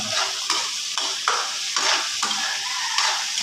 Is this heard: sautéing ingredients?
yes